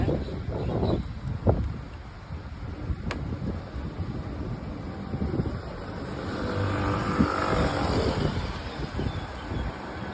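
An electric three-wheel motorcycle running with a steady low drive hum and heavy wind buffeting on the microphone, growing slightly louder toward the end.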